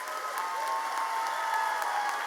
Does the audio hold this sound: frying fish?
no